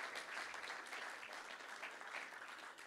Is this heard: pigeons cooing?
no